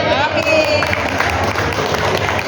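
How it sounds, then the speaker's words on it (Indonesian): Clapping and crowd noise from a gathering of women at a PKK regional plenary meeting in Jombang, a busy wash of hands with some voices and chatter mixed in, fairly loud and close. "Tepuk tangan"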